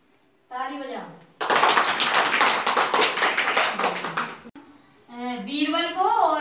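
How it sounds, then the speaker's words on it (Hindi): A group of children clapping hands in a classroom, a burst of rapid, loud, overlapping claps lasting about three seconds, with an adult voice speaking before and after. "ताली बजा।"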